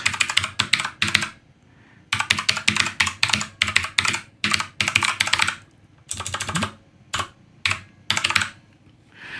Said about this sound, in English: I can then type in a link, so my website. I can type in the address.